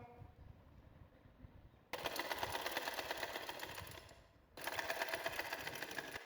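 A sewing machine stitches a button placket strip onto a baby girl's frock in two steady, rapid runs separated by a short pause, heard close and fairly quiet.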